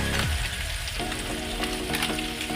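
Salt, turmeric and cumin powder frying and being stirred in a pan with oil for a prawn mustard paturi, giving a loud, continuous close sizzle broken by scraping stirs.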